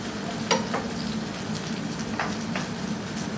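Blackened chicken sears in a hot pan with a steady, moderate sizzle and a few soft clicks of utensils against the pan, no voices.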